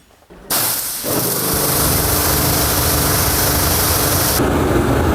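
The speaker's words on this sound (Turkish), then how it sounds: "Sıcak suyu basalım onun için abi." Hot water sprayed onto a part from a Toyota AE86 project car being cleaned outdoors: a loud, steady steam-like hiss starts abruptly after a brief quiet moment and runs continuously to the end.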